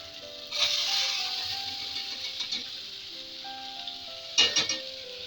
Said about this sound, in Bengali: এখানে যে পেঁয়াজটা ফোড়ন দিয়ে দিয়েছি